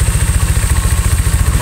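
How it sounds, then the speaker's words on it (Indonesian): A Honda Vario 125 scooter with stroke-up and bore-up engine work idles close by, a loud, even low-pitched thrum with a quick regular pulse and a faint whir on top. "Nah, ini suara mesinnya"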